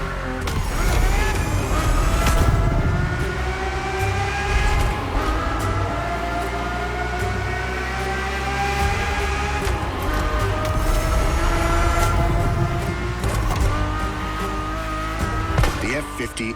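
A Ferrari F50's normally aspirated, Formula One-derived V12 in the Crew Motorfest racing game holds a steady, harmonic engine note across the whole stretch, climbing and falling with gear changes, with tire squeal in places and a voice narrating over it.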